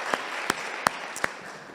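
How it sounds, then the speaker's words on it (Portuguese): A church congregation applauds during a Portuguese-language evening sermon, with a few distinct loud claps standing out over a steady, moderate bed of crowd clapping. "Vamos aplaudir a Jesus essa noite, amém, pessoal?"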